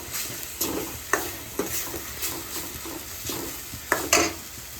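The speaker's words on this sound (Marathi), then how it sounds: "तेल जोपर्यंत तेल सुटत नाही तोपर्यंत त्याला परतत राहायचं." Tomato masala frying in oil while being stirred, a steady sizzle broken by repeated spoon scrapes and taps against the pan at an uneven rhythm.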